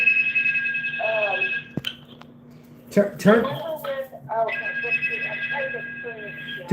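A mobile phone rings with a repeating electronic ringtone, loud and close, in bursts before and after a stretch where people talk over it.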